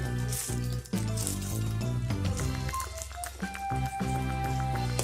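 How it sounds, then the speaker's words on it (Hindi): Gobindo bhog rice frying in a pan, a steady close sizzle with crackles running throughout, partly overlaid by soft background music tones. "तो ये फ्राई हो रहा है।"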